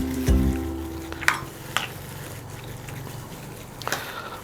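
A spoon stirs grated pumpkin into yogurt for raita, making soft, wet scraping and a few light knocks against the bowl, close and quiet, with no talking.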